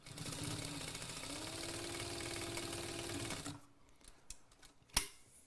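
A sewing machine runs steadily while stitching a bag, a dense continuous mechanical whir that stops partway through, followed by a few light handling taps and a sharp click.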